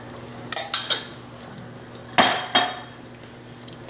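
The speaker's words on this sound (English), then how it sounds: "Just all stir it around and mixed up." Beef broth being stirred into a pot of braised short rib stew, with a utensil scraping and clinking against the pot in two short bursts, close and clear with no talking.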